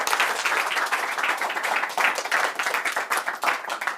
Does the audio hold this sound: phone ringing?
no